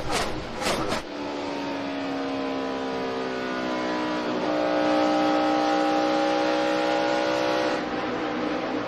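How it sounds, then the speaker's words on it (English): NASCAR stock cars in the 2011 Heluva Good! Sour Cream Dips 400 scream past at full throttle, a loud sustained engine roar with rising and falling pitch as they roll off and get back on the gas, following a brief burst of noise at the start. "you really hear the guys roll out and go back to the gas, as Wally said earlier, really fast"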